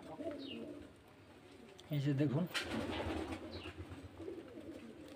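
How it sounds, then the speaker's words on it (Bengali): Fancy pigeons coo in a brief, low burst amid a busy background, with a person speaking briefly nearby. "খুব সুন্দর সুন্দর ভালো ভালো বাজির পায়রা আছে"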